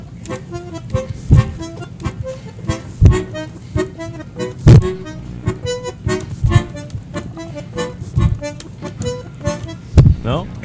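Rhythmic tango or Argentine folk playing on a 1938 bandoneon: short punchy chords and accented bellows hits in a driving pulse, close and lively, with no speech over it.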